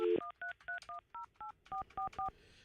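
Telephone keypad tones: about eleven short, evenly spaced beeps of a number being dialed, loud and close, following a brief tone at the start.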